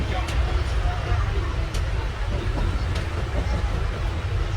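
Vikramasimhapuri Amaravati Intercity Express running near Ongole, a steady low rumble of wheels and carriages with periodic sharp rail clacks, heard from on board.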